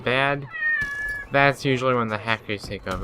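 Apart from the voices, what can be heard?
cat meowing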